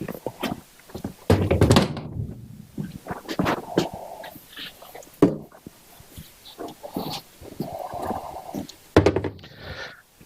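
Parts are taken off a 1966 Honda 305 Scrambler during restoration, with the seat and fuel tank lifted away in a series of close, irregular thunks, knocks and scrapes.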